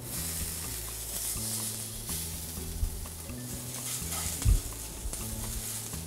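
Tuna searing in a hot pan, a steady close sizzle and hiss with a brief louder flare near the end, over a low background hum.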